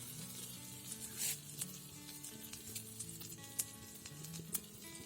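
Kasuri methi sizzles in a hot pan while pav bhaji is cooked, a steady faint frying hiss with scattered crackles and small pops, a few sharper spits standing out.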